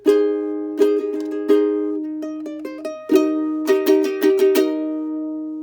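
Strummed ukulele chords, a brief picked run of notes, then a new chord strummed repeatedly, close and clean.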